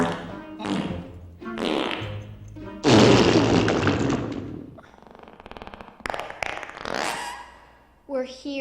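A cartoon fart sound effect from a Scooby-Doo scene rumbles loudly for about two seconds, mixed in with cartoon voices and other sound effects before and after it.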